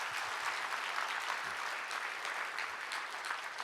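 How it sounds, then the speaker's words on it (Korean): A church congregation at a morning prayer meeting claps together in steady, even applause, moderately loud and unbroken throughout, with no voices. "영광 받으시 우리 하나님께 영광의 박수 먼저 올려드리겠습니다"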